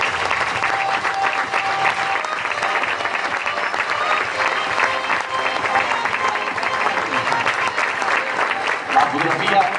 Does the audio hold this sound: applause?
yes